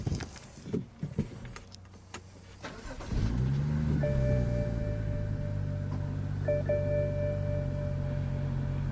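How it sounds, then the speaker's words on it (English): A BMW's engine starts after a few quiet clicks and bumps, cranking into a steady running hum with a faint high electronic tone layered over the idle. "So let's get this car started and take a look."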